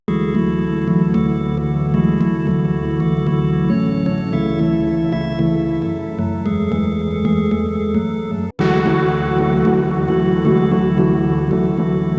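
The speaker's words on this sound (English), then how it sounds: "I've added a stock organ sound with some reverb on it" Sustained stock organ chords ring out with a wash of reverb, shifting through several changes and cutting off briefly before resuming.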